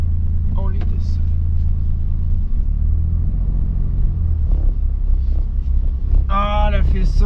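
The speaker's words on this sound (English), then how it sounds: "We're driving! We're driving!" A car drives along a road in Berlin, its steady low engine rumble and tyre noise continuous throughout, with brief voices near the end.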